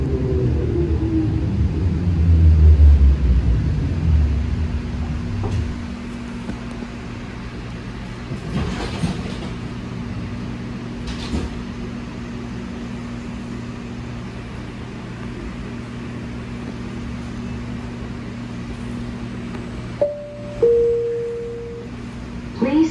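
A LYNX Blue Line light rail train rumbles loudly as it pulls away, then settles into a steady low electric hum with a sustained tonal whine, a few clunks and a brief chime near the end.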